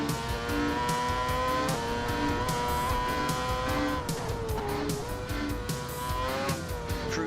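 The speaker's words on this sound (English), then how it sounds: "Fernando Alonso's 2011 Ferrari should do nicely. So this is a lot faster than the MX-5" Fernando Alonso's 2011 Ferrari F1 car laps Monaco in a racing video game, its high-pitched engine whine rising and dropping with gear changes, with brief tyre squeals.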